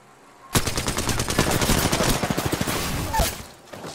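Rapid gunfire in Apex Legends breaks out after a quiet moment: a long run of sharp, evenly spaced shots, loud and close, then a brief lull and a few final bursts as the clip fades.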